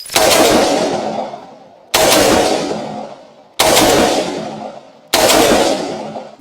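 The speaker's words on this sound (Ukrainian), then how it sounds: "Це дуже гучна зброя, вона дуже гучна." A Ukrainian UAR-15 rifle with a short barrel fires four very loud single shots at a steady pace, each blast sharp and close, then trailing off in a long echo. No one speaks.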